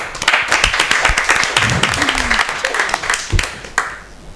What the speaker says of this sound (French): D'accord, on applaudit s'il vous plaît.